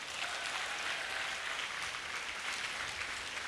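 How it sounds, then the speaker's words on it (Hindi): Sustained applause from an audience cheering NEET UG 2023 top rankers at a toppers' talk, a continuous wash of clapping that stays level and fairly loud from start to finish. "जोरदार तालियां इनके लिए।"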